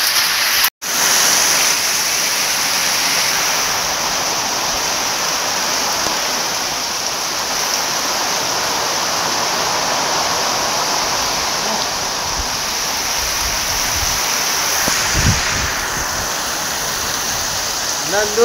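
Heavy rain driven by stormy wind pours down in Nandur village, a loud, unbroken roar of falling water that goes on steadily for the whole stretch.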